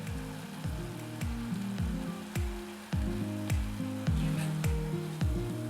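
Corned beef and cabbage sauté in a pan, sizzling continuously, with regular stirring scrapes roughly every half second over the steady frying hiss.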